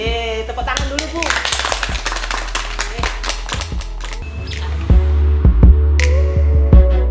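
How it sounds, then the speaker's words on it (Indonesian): Audience clapping at a community medicinal-plant group event in Blitar, with quick, rapid claps in the first few seconds that blend with background music and fade as the music continues. "Tepuk tangan dulu, Bu."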